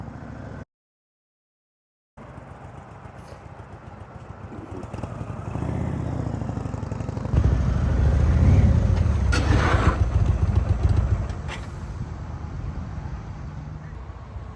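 Engine of an Indian RoadMaster motorcycle held at low RPM during slow U-turns, a steady near rumble that swells gently and stays even without sharp revving, with a brief dropout early on.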